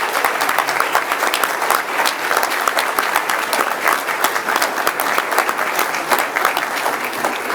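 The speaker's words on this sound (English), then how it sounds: "let's give them a round of applause" A crowd at a board meeting applauds student leaders with sustained, dense, even clapping from many hands in a room, loud and continuous from start to finish.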